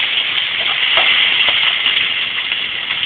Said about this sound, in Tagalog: Gigisa ang bawang at sibuyas sa mantika.